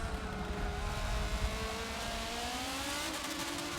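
Race car engines in the video game Forza 7, including a Ford GT, roar steadily with rising and shifting harmonic pitch, loud and continuous throughout with no pauses.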